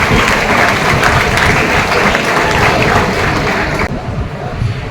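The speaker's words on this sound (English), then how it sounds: "Let us welcome them with a big round of applause" A large audience at a school felicitation ceremony gives loud, sustained applause, a dense wash of clapping with some crowd noise underneath, steady throughout the five seconds.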